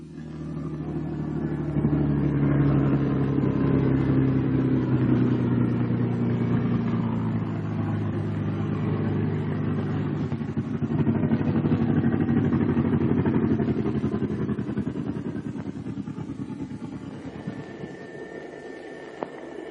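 Engine of a 1942 Bell P-39 Airacobra fighter plane while taxiing, a steady low throbbing piston drone with a slight rise and fall in pitch, loud and continuous for the whole stretch, without talk.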